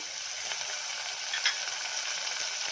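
Onion and tomato fry in hot oil with mustard seeds and curry leaves, a steady close sizzle with faint occasional stirring ticks, heard alone without talk.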